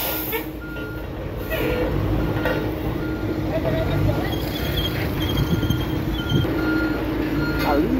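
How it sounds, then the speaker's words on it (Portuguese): Construction truck at a street roadworks site reverses with a regular series of high-pitched backup beeps over a loud diesel engine rumble and traffic noise, while someone talks nearby. "Tem mais caminhão aqui, ó. Faz parte da obra aqui"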